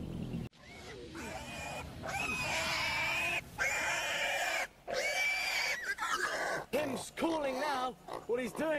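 A pig in the Minecraft video game squeals and grunts over and over in loud, rising and falling bursts, with brief gaps between the cries.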